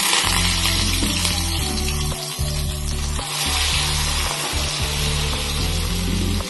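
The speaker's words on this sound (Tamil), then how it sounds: "ஒரு சட்டி வச்சு அதுல தேங்காய் எண்ணெயை ஊத்தி இந்த சில்லிய நான் போடுதேன்." Pieces of chicken chilli fry in coconut oil in a pan, giving a loud, steady sizzle with bursts of crackling and a low bubbling hum underneath, heard close up without any talking.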